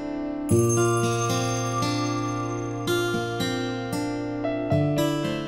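A bright electronic ringtone plays a repeating melodic pattern of bell-like tones, loud and close, with no voices.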